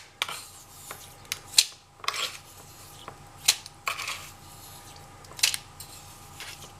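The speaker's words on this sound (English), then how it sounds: "Get my coffee spoon. And I'm going to scrape off just the top of this stuff." A coffee spoon scrapes material off the top of a gold pan's contents, giving several quiet, gritty rasps spaced irregularly, close up, with no talking.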